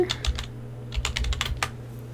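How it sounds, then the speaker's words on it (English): Keys on a computer keyboard clatter in quick uneven bursts, close and fairly loud, over a steady low hum while a game title is typed. "And type in farm together"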